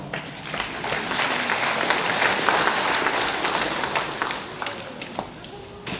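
Continuous audience applause at an employment and training services event, a steady wash of many hands clapping that holds fairly loud for the full stretch, tapering slightly toward the end.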